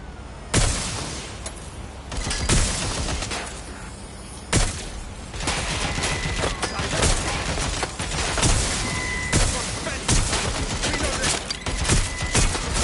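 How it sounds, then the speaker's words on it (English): Gunfire in the Watch Dogs: Legion game: repeated loud bursts of shots with sharp individual cracks spaced across the stretch, ringing over a constant background din. "Shots fired. Shots fired."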